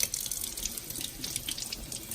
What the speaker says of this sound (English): Run them under some water.